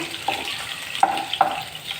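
Onions and green chillies fry in a pan, a close, steady sizzle with a few brief stirring clinks.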